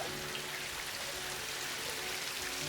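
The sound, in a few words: rain starting to fall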